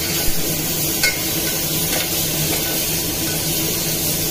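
Tomatoes go into a hot cooking pot for sambar, with a steady close sizzle and stirring noise, plus a couple of brief soft knocks near the start.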